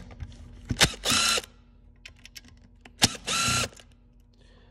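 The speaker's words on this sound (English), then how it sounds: "And I'll take the Phillips screws off next." Power tool backing Phillips screws out of an alternator regulator on a Denso hairpin unit: two short bursts of high whirring, each after a sharp click, with a faint steady hum between.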